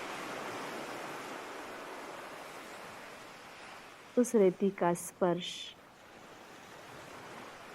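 Soft, steady surf from ocean waves washing on a beach forms a faint background wash, with a calm voice speaking briefly over it partway through.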